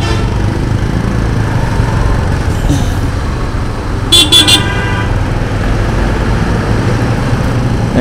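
Morning traffic jam on a Dhaka road: a steady engine and road rumble, with a quick burst of two or three sharp car horn toots near the middle.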